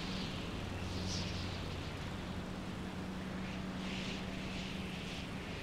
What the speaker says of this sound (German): Sieht aus wie so ein Rescue-Helikopter.